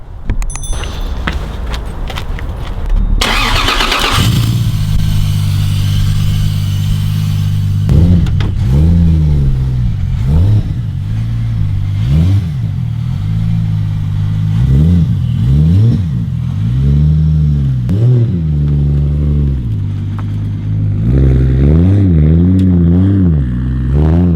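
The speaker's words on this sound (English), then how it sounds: "As you can tell, the Supra's running good. Cold start, and it was successful." A Toyota Supra engine cold-starts in cold weather, cranking briefly before catching, then idles loudly and rumbles through several revs that rise and fall, close to the car with no talking.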